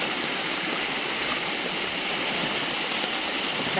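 Steady rushing water of a stream flowing strongly after rain, a continuous broadband wash with no breaks, close by and fairly loud.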